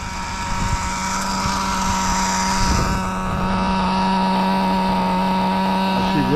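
A Traxxas XtM X-Cellerator Street Edition RC car with an RS4 motor runs with a steady, loud electric whine and buzzing harmonics, plus a brief rise in pitch near the end.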